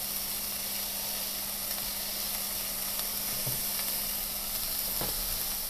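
Sausage patties fry in a pan with a steady, loud sizzle and hiss, a continuous bubbling crackle throughout, a couple of faint clinks or pops now and then, no voices.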